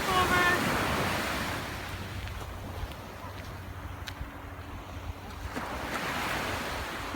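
Ocean surf breaking on a Florida shore with wind buffeting the microphone, a steady roar of waves rising and falling, with faint voices underneath.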